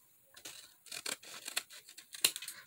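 Scissors trim excess thin paper in a quick series of crisp, close snips, about six or seven cuts in an uneven rhythm, at a fairly soft level.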